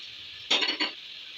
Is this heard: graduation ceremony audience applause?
no